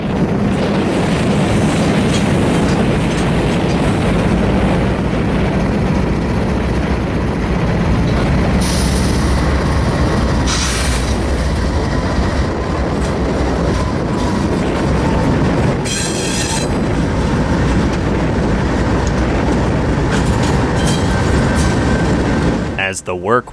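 A Union Pacific freight train rolls into the yard, loud and close, its wheels clattering and rumbling steadily, with a few squeals and a short high whine partway through. A person talks over the train noise.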